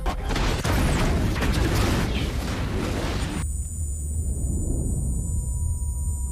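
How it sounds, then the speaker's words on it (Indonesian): An explosion in a dramatic film, a loud broadband blast and roaring debris for a few seconds that cuts abruptly to a low lingering rumble with thin ringing tones. "ledakan pun terjadi"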